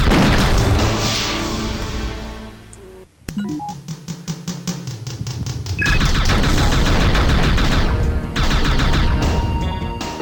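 Rapid gunfire blasts at a gate in the video game Cyberia 2: loud bursts of automatic shots, a short pause with scattered single shots, then dense sustained firing and crashing impacts.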